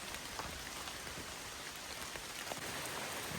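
Heavy rain falls in a continuous, dense patter on the Appalachian Trail near a shelter, a soft, even hiss with scattered louder drops and no voices.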